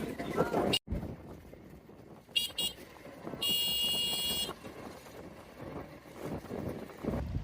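A small boat carrying seven people moves across the Lakhai haor wetland in Bangladesh, with a low steady rumble and gusty wind noise throughout, a brief sharp knock early on, and a short high tonal beeping sound midway.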